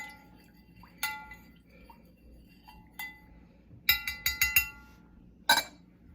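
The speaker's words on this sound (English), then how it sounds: "Give it a quick stir here." A spoon stirs solution B, part of a clock reaction, in a large glass mixing cup. A few separate glass clinks give way to a quick run of rapid clinks, then one last clink, all close and fairly quiet.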